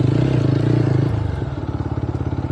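A 2025 TVS Apache 160 4V base-model motorcycle on the move, a steady close engine drone with a pulsing rhythm that drops to a lower, chugging note partway through, no speech.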